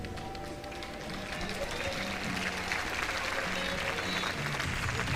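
Crowd applause at an NCAA softball game between Arizona and LSU as an injured player leaves the field, steady and sustained throughout, with a faint voice over it.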